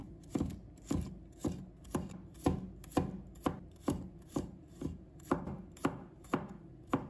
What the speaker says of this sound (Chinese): 再准备1把大蒜，把它切成薄片